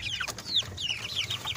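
A young joper chicken, a cross of joper and Bangkok breeds about 40 to 45 days old, clucks and peeps in quick repeated bursts close by, with soft background rumble.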